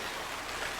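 Steady rain falling outdoors in a garden, a dense continuous hiss of drops with no pauses, fairly quiet and uniform throughout.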